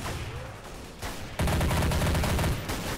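Rapid bursts of gunfire from Counter-Strike: Source game weapons crackle in quick succession, sparse at first and then dense and continuous, fairly quiet overall.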